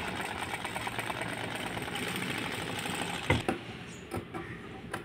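A sewing machine stitches a maggam work blouse, its needle running in a fast continuous mechanical whir close by, then stopping with a few clicks and taps at the end.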